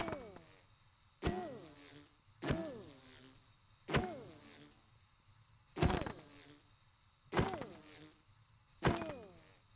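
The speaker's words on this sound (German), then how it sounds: "Alter, sind das viele Bienen." Many bees buzz in the Minecraft modpack FTB Skies, with sharp recurring thwacks every second or so, each followed by a fading buzzing swell, at a quiet overall level.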